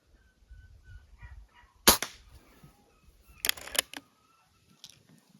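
Several sharp shots from an IZh-38 air rifle crack out at irregular intervals, one alone and then a quick cluster of three, with a last fainter one and quiet between.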